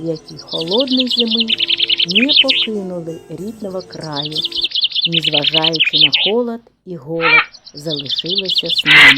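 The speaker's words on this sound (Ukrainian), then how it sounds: "Це голоси пташок" Wintering birds such as magpies, crows, pigeons, woodpeckers and bullfinches chirp and twitter in repeated bright bursts through a snowy frozen scene, while a narrator speaks steadily over them.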